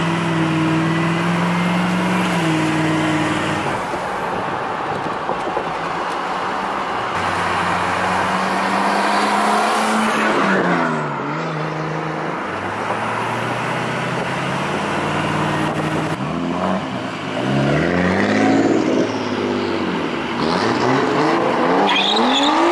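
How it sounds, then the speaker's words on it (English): A Nissan R32 Skyline doing donuts, its engine revving hard and rising and falling in long sweeps while the tires squeal and skid, loud and close throughout with no talking. "now he wants to do his first donut"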